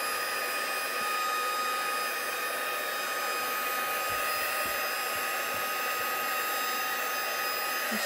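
A hair dryer blows steadily on inks and oxides spread across a heat-resistant craft mat, a constant close whooshing hiss that runs unbroken with faint handling knocks underneath.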